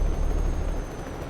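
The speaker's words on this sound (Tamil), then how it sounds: "ஹெலிகாப்டர் வர நிற்கிது." Helicopter in the Euro Truck Simulator 2 video game, a loud, steady low rumble and whir with no talking.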